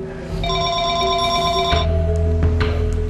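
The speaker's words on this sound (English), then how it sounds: "I just heard a phone ring in this house" A telephone rings loudly inside a house, a bright electronic trill in two bursts against a low background hum, with no talking.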